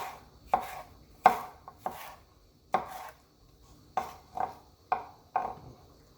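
A knife dices peppers on a cutting board for a Jamaican vegan zucchini and gungo peas rundown, giving about nine sharp, separate chops at an uneven pace, close and clear with nothing else heard.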